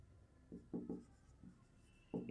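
Pen or pencil writing on paper while working a Class 7 maths area problem, heard as a few short scratchy strokes in bursts, fairly close but soft, with no talking.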